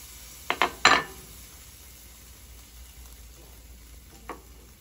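Bread slices fry in butter in a pan, with three quick scraping, sizzling bursts close together near the start, a low, quiet hiss after them, and one more short scrape near the end.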